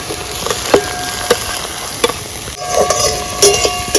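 Tomatoes tipped into a hot pan for a pomfret fish curry sizzle steadily, with sharp wooden clacks of stirring and scraping breaking through the crackle.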